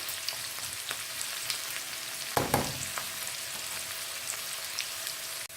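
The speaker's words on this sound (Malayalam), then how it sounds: "ചുവന്നുള്ളിയും ജീരകവും കടുകും ഉലുവയും എല്ലാം നല്ല മൂത്ത് വന്നിട്ടുണ്ട്" Shallots, cumin, mustard seeds and fenugreek fry in hot oil for a tempering, a steady fine crackle and hiss close by with one louder burst of spattering in the middle.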